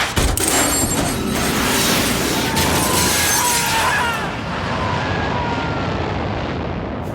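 A jet's ejector seat firing in the video game Hitman, a loud blast that rolls into a long roaring rush of wind and engine noise, fading slowly as it continues.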